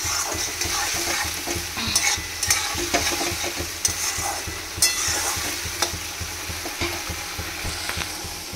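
Bhetki fish fries in a pan with onion and tomato, giving a steady loud sizzle broken by repeated scraping stirs of a spatula, close and continuous, with no voices.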